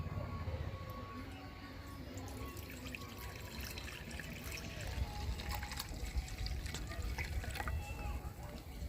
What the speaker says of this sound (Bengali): এখন সবার শেষে কড়াইতে দিয়ে দেবো 500 গ্রাম লিকুইড দুধ